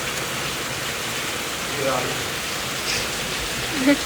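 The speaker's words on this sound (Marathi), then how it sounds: "पाऊस बघा तुम्ही किती आलाय" Heavy rain pours steadily during an outdoor shoot, a dense broadband hiss filling the whole stretch with only slight swells, no clear voices over it.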